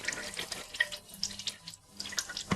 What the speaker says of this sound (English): Look for the antifreeze to start leaking.